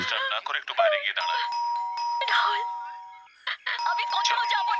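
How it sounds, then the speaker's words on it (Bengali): A doorbell in a detective television serial rings with sustained electronic chime tones between bursts of music and a voice, fairly loud and close. "এবার তুমি বাজাও কলিং বেল"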